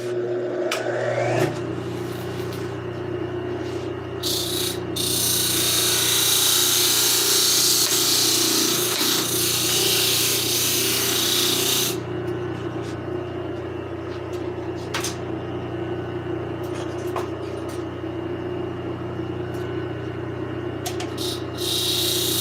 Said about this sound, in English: I'm gonna go ahead and run him on the disc sander and take another 16th off